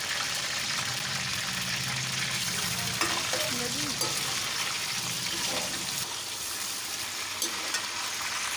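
Chicken pieces fry and sizzle in a pot with lightly browned onions, a steady hiss running throughout with occasional stirring scrapes, close and fairly loud.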